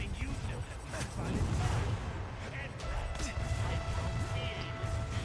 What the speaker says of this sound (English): you got explosions, you got mines, you've got the Goblin using his glider on you